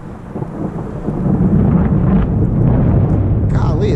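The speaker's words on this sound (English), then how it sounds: "Can't have lightning without the thunder." Deep rolling thunder from a thunderstorm rumbles loudly and steadily, swelling after the first second and sustaining a heavy low roar throughout, with no speech over it.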